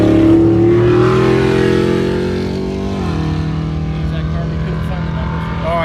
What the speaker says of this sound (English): We just had a car come over the finish line.